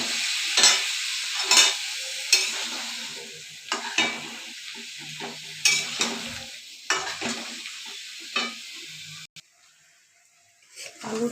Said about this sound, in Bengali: একটু নাড়াচাড়া করে আমি ঢেকে ঢেকে আলুটা ভাজবো